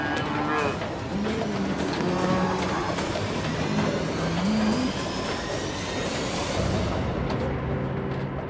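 Cattle low in long, drawn-out moos over a loud, constant rumble of Peterbilt truck engine noise on an Outback dirt road.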